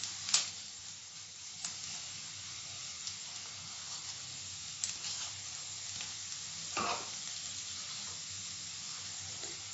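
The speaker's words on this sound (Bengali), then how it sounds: "এটা ভালো করে তেলের সঙ্গে মিশিয়ে কয়েক সেকেন্ড সটে করতে হবে।" Fennel powder, turmeric and slit green chillies sauté in hot oil, giving a steady low sizzle with a few sharp stirring clicks and taps against the pan, no talking.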